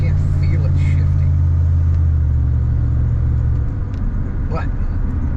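A Ram 1500 pickup truck drives along in limp home mode, its loud steady engine rumble and road noise continuous throughout, with a low droning tone that shifts slightly partway through.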